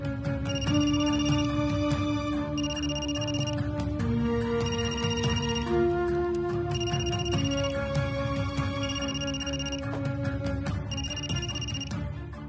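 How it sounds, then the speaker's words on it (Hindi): A mobile phone rings in a home during a Hindi TV serial scene, a repeating melodic ringtone of bright tones in steady phrases that plays loud and continuous for over twelve seconds with no talk over it. "पूर्वा का फोन बज रहा है।"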